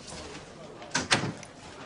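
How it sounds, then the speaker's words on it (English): A door is shut twice in quick succession, short sharp thuds over a quiet room background. "shut the door."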